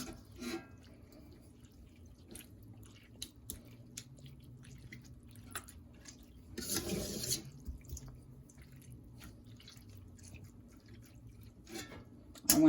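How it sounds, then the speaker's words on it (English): Whey drips and trickles from pressed goat's milk mozzarella curds, with scattered small drips over a quiet background and a brief louder splashing trickle midway, close and without talking. "take the curds and fold them kind of in on themselves and press a little to release more of the whey out of these curds"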